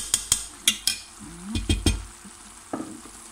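Food seasoned with turmeric is stirred in a pan. A spoon scrapes and clicks against the pan several times, sharp and close, over a soft sizzle, and nobody speaks.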